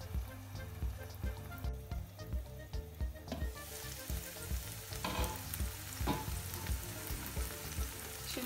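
Peppers and garlic fry in a pan alongside broccoli, giving an even, steady sizzle with occasional stirring clatter. The sound stays fairly quiet and close throughout, with no talking.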